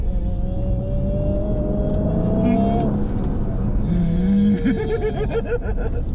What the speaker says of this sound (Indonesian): Kenceng juga nih mobil Vantage.